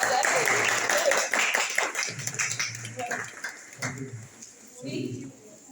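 Scattered applause from a crowd at a painting exhibition rises in the opening seconds and then thins out, with a voice speaking over it.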